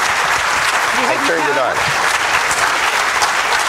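A keynote audience breaks into dense, steady applause that fills the whole stretch, with a voice briefly speaking over the clapping.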